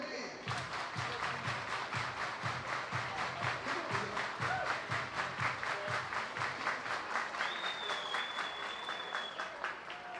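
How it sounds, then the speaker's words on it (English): A baseball crowd claps in steady rhythmic unison at a minor league game between Reading Fightin Phils and Akron RubberDucks, a dense chant-like clapping with crowd noise beneath and a brief whistle-like tone near the end. "Everybody clap your hands."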